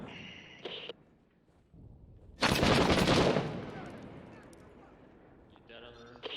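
Gunfire in the military shooter video game Six Days in Fallujah, a loud burst of shots erupting midway and echoing out, with short radio-style voice chatter before and after.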